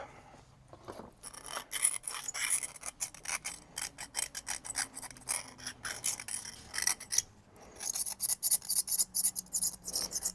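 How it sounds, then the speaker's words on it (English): Carbon deposits being scraped and rubbed off an engine valve from a 1989 Freightliner cabover cylinder head, a close, rapid series of dry rasping strokes in an irregular rhythm with brief pauses. "while I'm in here, I'm just cleaning any large deposits"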